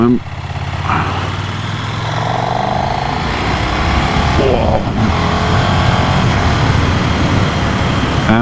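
A KTM 1390 Super Duke Evo R motorcycle engine runs loud and close, holding a rough, throbbing idle with short blips of throttle.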